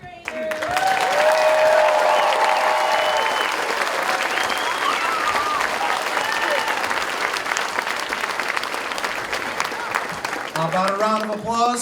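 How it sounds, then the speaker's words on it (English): Steady audience applause for a third grade choir at a school concert, dense clapping with occasional cheers that carries for about ten seconds before a voice starts talking as it dies down. "Let's hear it for these third graders."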